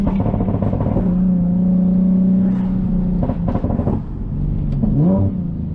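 A tuned Nissan 370Z engine and exhaust drone while driving on a canyon road, a loud steady hum that rises and dips with throttle changes, ending in a swelling rev.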